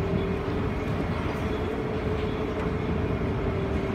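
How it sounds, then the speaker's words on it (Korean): A Seoul subway Line 6 train arrives at Dokbawi station with a steady, loud rumble and rolling roar that fills the platform without a break. "6호선 열차를 타고 지금 독바위역에 왔습니다"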